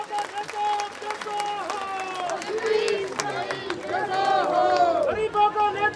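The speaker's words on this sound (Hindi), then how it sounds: "जोरदार तालियों से स्वागत।" Audience applause welcoming organiser Ashish Sharma onto the stage at a women's blessing festival, steady clapping from the crowd with cheering voices and music tones running over it throughout.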